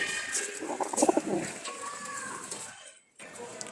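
A male Jalali pigeon coos close by in a short burst of low, rolling throaty notes, heard alongside a person talking.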